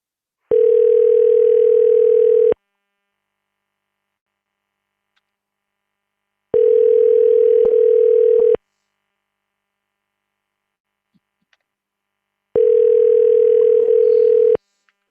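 Telephone line tone heard while calling a number: three loud, steady two-second beeps separated by long silent gaps, clean and close with nothing else around.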